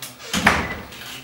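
A door swings shut with a single short thud and rattle, fairly close, followed by quiet room tone and no speech.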